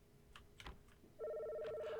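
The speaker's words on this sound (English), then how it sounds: "There's the phone." A telephone rings with a sustained electronic trill that starts partway through, loud and steady after a few faint taps and shuffles.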